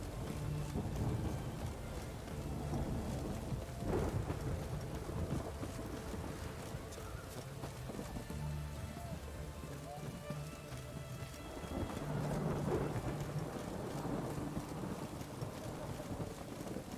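Steady rain with low rumbling thunder in the open world of The Witcher 3, a constant wash of falling water that swells briefly in places, with faint game voices mixed in.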